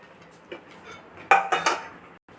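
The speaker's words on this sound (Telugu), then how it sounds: "ఇలా ప్లేట్ కొంచెం నెయ్యి నూనె రాసుకోవాలండి." A steel plate clinks and clatters briefly against a kitchen surface as it is greased with ghee and oil, a few sharp metallic knocks close by with no talk.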